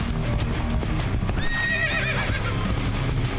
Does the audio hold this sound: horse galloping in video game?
yes